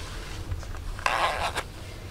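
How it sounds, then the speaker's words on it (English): A zipper runs up the side of Funtasma REFEREE-200 costume boots in one short quick pull, close and quiet. "Now, I like to do the zipper."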